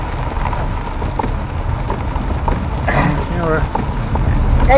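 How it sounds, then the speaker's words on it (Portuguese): Rain drums steadily on a car during a drive on the old Lapa road near Rio Negro, Paraná, a dense hiss with road rumble under it, while people talk inside the vehicle. "Nossa, agora choveu."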